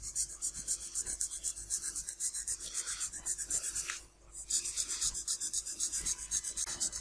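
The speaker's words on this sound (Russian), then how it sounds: "Я сейчас обрезаю с некоторым запасом и потом доводить буду уже окончательно шкуркой." A blade trims foam parts of a balsa-and-foam model aircraft wing for a Piper J3, making fast rhythmic rasping strokes that run steadily up close, pausing briefly midway before resuming, with no voices.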